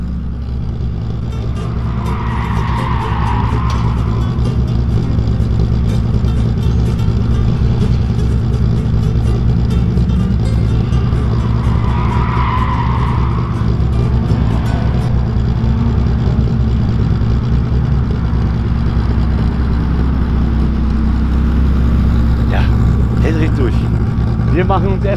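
A 1200 hp Golf engine revving hard nearby, a loud sustained drone with two rising and falling rev swells over a constant engine rumble.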